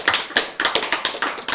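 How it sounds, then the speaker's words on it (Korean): An audience claps in a quick burst, a roughly steady rhythm of sharp hand claps at moderate volume with no talk over it. "박수."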